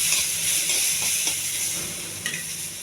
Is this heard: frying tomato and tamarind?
yes